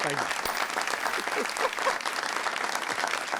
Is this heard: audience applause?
yes